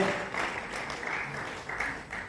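Theatre audience at Balgandharva Rangmandir in Pune clapping, a fairly faint, continuous patter of applause lasting a couple of seconds.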